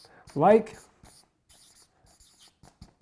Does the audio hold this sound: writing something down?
yes